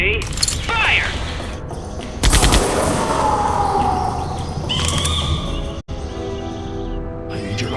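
Gunfire in the Jurassic Park video game, bursts of shots mixed with mechanical clatter and ambient game sounds, with voices speaking, one abrupt cut near the end.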